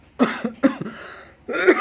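Three harsh coughs from one person, two close together and a third after a short pause, loud and near.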